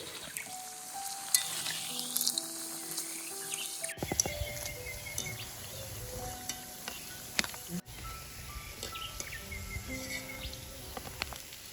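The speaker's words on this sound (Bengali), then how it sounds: "বাকি বড়া আরো ভাজতেছি।" Lentil fritters frying in hot oil at home, a continuous soft sizzle and crackle running through the whole stretch, with faint birds and insects calling in the background.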